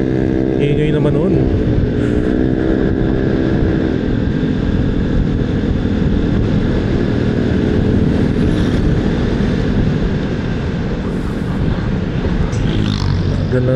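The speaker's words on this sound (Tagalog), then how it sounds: "Ganda ng tunog ng tambutso niya." A Vespa scooter's exhaust drones steadily and loudly throughout on a ride through Santo Tomas, Batangas, with passing traffic and people talking over the engine noise.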